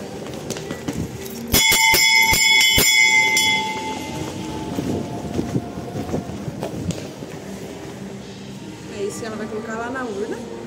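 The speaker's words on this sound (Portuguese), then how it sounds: "E agora eu quero tocar o sino" A bell in a shop rings with several sharp, bright strikes in quick succession, then fades as people talk and murmur in the background.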